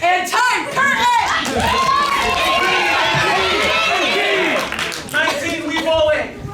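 A theatre workshop audience claps steadily and loudly at the end of a show, a dense, sustained wash of hand-claps mixed with excited voices and chatter close by.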